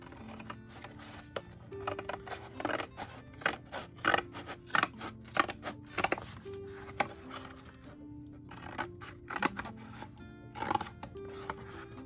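Scissors snipping through paper to cut a scrapbook page title from Christmas paper scraps, a run of short close crisp cuts in uneven rhythm with brief pauses, no talking.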